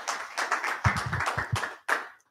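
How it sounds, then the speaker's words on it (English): Clapping from an audience welcoming a speaker to the front, several bursts of handclaps with short pauses, close and moderately loud, then a final brief clap. "Let's give a big round of applause to Tony."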